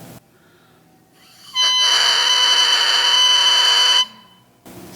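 An oboe reed blown alone without the instrument gives one harsh, screechy buzzing crow that lasts about two and a half seconds, with quiet before and after.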